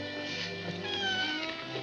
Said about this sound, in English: Come on, Kitty